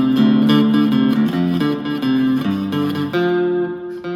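Guitar riff with a little vibrato and a string bend, a few seconds of close, loud picked notes ringing over each other, played alone with no talking.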